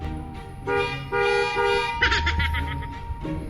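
Several car horn honks set off by a bear inside the car, a couple of longer blasts followed by a run of short quick toots, loud and close with faint background noise.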